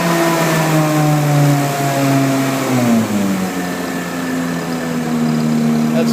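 A BlueLine Thermal Wave 5M fuel-injected truck-mount carpet-cleaning engine runs loud and close with a steady droning hum, its pitch sliding down partway through as the revs settle.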